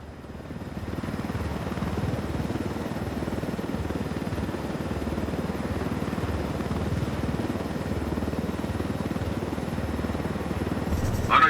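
A helicopter flying low through a canyon in the video game Ghost Recon Wildlands, a steady close rotor and engine drone that holds level and fills the whole stretch, with no talk over it.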